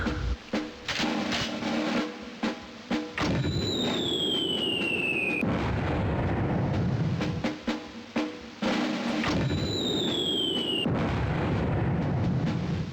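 A mortar fires and explosions go off in the video game Army Men, heavy booming blasts and rumbling in a loud continuous stretch, with two whistling projectile sounds descending partway through.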